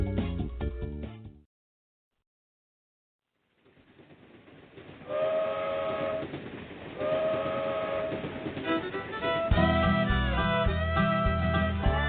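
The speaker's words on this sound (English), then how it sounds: "The bluegrass trains are coming from Beaverdale down to Alabama." A train passes with a sounding whistle, heard as loud tonal whistle blasts and rail rumble, broken by a short silent gap, with a musical quality; no talking.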